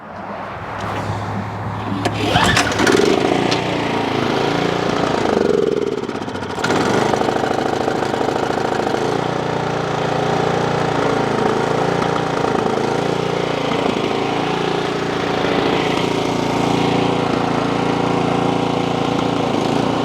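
An Ariens snowblower engine fires up after being choked and primed, then settles into a loud, steady, close running drone with a few rough clanks early on.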